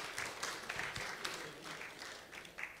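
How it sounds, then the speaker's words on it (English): A church congregation gives a short round of applause during a Sunday service, faint scattered clapping with a few distinct sharper claps over a soft background. "we should give them a round of applause."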